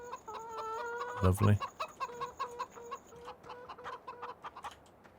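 Chickens cluck in the Farming Simulator 17 video game, with a busy run of short, repeated clucks over game ambience and a brief spoken word partway through.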